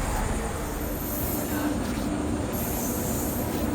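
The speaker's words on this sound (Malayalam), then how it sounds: "അന്ത്യോദയ എക്സ്പ്രസ് എന്നുള്ളത് എന്താണ് എങ്ങനെയാണ് എന്നുള്ളതാണ് ഇന്നത്തെ വീഡിയോ" Indian Railways Antyodaya Express running, a steady loud rumble of wheels on track with a faint squeal of wheels, continuous throughout with no talk.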